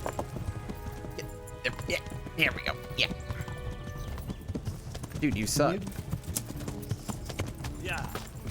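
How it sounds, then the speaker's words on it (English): Hooves clip-clop at a quick pace as a horse gallops in the video game Kingdom Come Deliverance, with a brief whinny, all under casual talk from a player. "Henry's got the fastest horse in the game that's good at getting caught on bushes during important segments."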